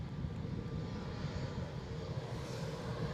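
A departing airliner bound for London City from Edinburgh airport gives a steady, broad engine roar, heard from a distance at a low, even level.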